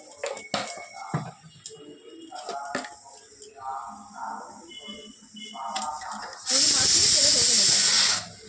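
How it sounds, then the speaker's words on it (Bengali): A kitchen pressure cooker, cooking a taro and shrimp dal, lets out a loud, sustained steam whistle and hiss lasting nearly two seconds near the end, after quieter kitchen sounds and a voice speaking. "সিটি পড়ছে, কুকারটা এরকম হয়ে গেছে।"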